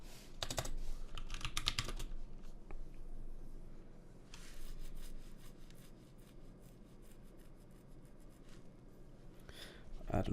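Keystrokes on a computer keyboard while writing C# code, with bursts of rapid clicking near the start and around the middle, then quieter sparse taps over low room noise, close and moderately loud.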